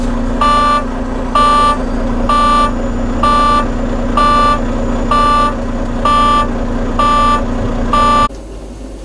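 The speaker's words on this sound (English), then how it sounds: "start the truck back up and bring the air pressure" A truck's engine idles steadily near the microphone while a reversing alarm beeps in a regular pulse about once a second; the idle continues briefly after the beeping stops.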